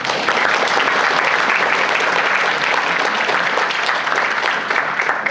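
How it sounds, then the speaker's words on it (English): Loud, sustained applause from a conference audience for speaker Eli Sklar, thick continuous clapping close and even throughout. "Clap your hands together for Eli Sklar."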